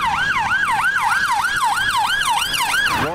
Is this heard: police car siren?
yes